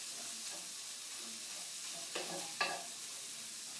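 Chorizo fries in a pan with a faint, steady crackling sizzle, punctuated by a couple of light stirring scrapes near the end, no voices.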